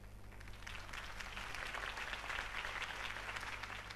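Sustained crowd applause and cheering in a Batman PS4 video game, dense clapping that swells slightly and holds steady throughout, with a low hum underneath.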